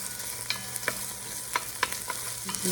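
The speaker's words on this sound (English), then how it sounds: "Listen to that sizzle." Yellow bell pepper sizzles steadily in a hot frying pan, with occasional sharp scraping clicks as it is stirred; no voices.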